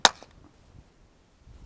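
A single sharp crack of a .22 rifle firing CCI ammunition, loud and close, followed by a brief echo and then near silence.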